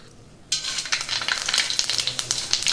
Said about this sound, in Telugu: నూనె వేడెక్కింది. ఇప్పుడు పోపు దినుసులు వేసుకుందాం.